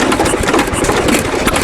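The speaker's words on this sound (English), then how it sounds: "Running an early 1900s water pump used for general purpose on the farm." An early 1900s John Deere hit-and-miss engine, 2 horsepower at 450 RPM, runs a farm water pump with a loud, close, steady chugging drone and no talking.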